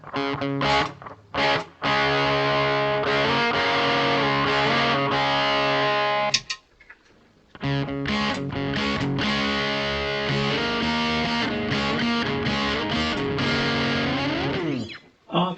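A heavily distorted electric guitar through a Boss DS-1 or Dolamo Vintage Distortion pedal plays sustained chords and riffs, loud and buzzy, with a brief pause midway before resuming.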